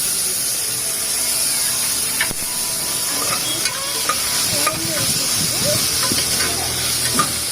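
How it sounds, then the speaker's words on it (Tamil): Tomatoes sautéing in a hot pan for goat breast-bone soup, a steady close sizzle and hiss with occasional scraping stir strokes throughout, no voices. "தக்காளி எடுத்து போட்டு நல்லா வதக்கிக்கோங்க."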